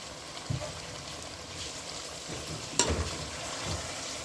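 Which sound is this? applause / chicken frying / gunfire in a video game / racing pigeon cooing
chicken frying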